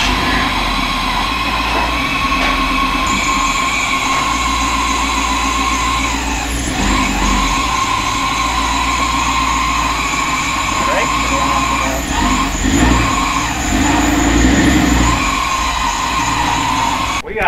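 Inside a closed shop, an FJ45 ultimate rock crawler runs with a loud, continuous engine drone and mechanical whine while it rolls forward and backward to test its transmission, with voices talking over it.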